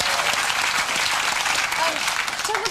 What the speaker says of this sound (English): That's a bloody good round of applause for that